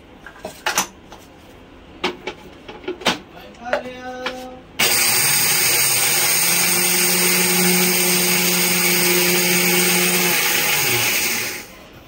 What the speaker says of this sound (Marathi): हे जे आपण पोहे भाजून घेतलेले आहेत हे आपल्याला मिक्सरला वाटून घ्यायचे आहेत